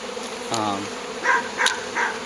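Buckfast honey bees at an opened hive, with several short, close buzzing passes as bees fly near, plus a brief tonal squeak, fairly faint over quiet background.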